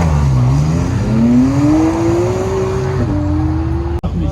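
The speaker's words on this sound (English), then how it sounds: "the first one going is the McLaren Artura" A McLaren Artura drives past at a car show, its engine note loud and close, rising steadily in pitch as it accelerates over about four seconds, with a brief dip near the end.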